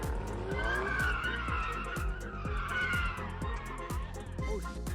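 AMG and BMW cars drifting, engines roaring loudly and continuously with tires squealing and skidding over the top, a busy, close sound with talk mixed in.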